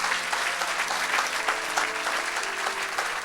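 A church congregation applauds throughout a Saturday worship service, steady dense clapping filling the space with faint voices mixed in.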